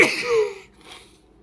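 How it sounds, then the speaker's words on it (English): A single short, sharp sneeze-like burst of breath, close and fairly loud, followed by a faint breathy exhale and quiet. "I'm about to sneeze."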